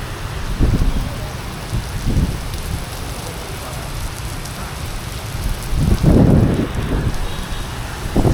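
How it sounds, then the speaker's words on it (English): Heavy rain pours steadily under a bridge in Hue, Vietnam, a dense, loud, constant wash with a few stronger gusts or surges and no talking. "It's bucketing down."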